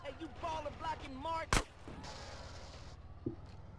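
In GTA San Andreas, a single sharp gunshot cracks toward the player amid excited Polish shouting, then a fainter second shot follows over engine rumble.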